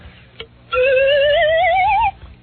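A slide whistle sweeps up with a wobbling, warbling pitch for over a second, a spacey UFO-style effect, preceded by a brief click.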